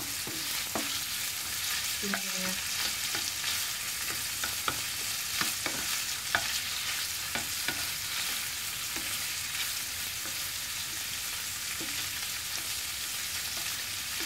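Continuous stir-frying in a pan for stir-fried bitter gourd with eggs and pork, a steady sizzle broken by repeated scrapes and clacks of the spatula against the pan, close and alone with no talk.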